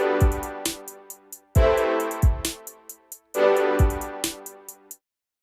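Two hip-hop chords, the 1 and the 7, alternate over a steady beat of deep kicks, snare hits and quick hi-hat ticks, with the pattern repeating three times at a moderate tempo and no voices.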